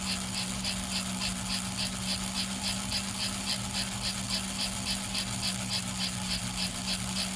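A 1954 #336 Northern engine, under repair, runs at low RPM with a steady low hum and a regular, even pulse repeating throughout at moderate volume.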